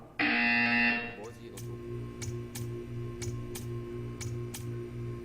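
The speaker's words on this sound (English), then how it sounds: "You will hear a buzzer." A buzzer in the video game Portal 2 sounds as one loud, harsh, sustained electronic buzz lasting about a second. It is followed by a steady low hum and a faint, regular ticking.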